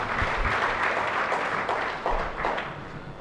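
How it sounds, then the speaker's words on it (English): An audience at a Rotary District 3230 gathering applauds steadily, a dense, fairly loud wash of clapping filling the whole stretch with no speech over it. "Please give a very big applause for you."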